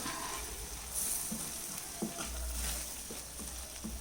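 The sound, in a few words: stirring potato and green peas curry with fennel powder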